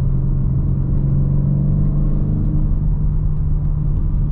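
Nissan 350Z accelerating hard with a loud, steady engine drone and rumble close up; the shift into second gear is not clearly audible as a break in the sound.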